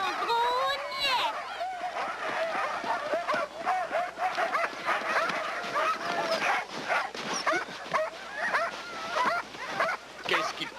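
A team of sled dogs barks and yips excitedly in rapid overlapping bursts, close and loud, with whimpers mixed in and people talking among the noise.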